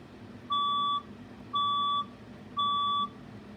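Fire alarm sounding during a building alarm test: three steady electronic beeps, each about half a second long and evenly spaced, loud over a low background hum.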